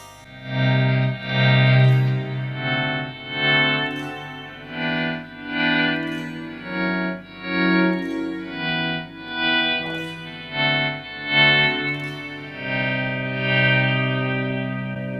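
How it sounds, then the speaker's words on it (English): Electric guitar notes swell in from silence one after another through an Eventide Space reverb pedal, rising smoothly with a backwards, smeared reverse delay and heavy ambient wash, no voices. "Everyone likes a bit of reverse delay, so we're going to do some volume swells"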